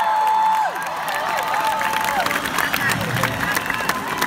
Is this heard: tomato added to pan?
no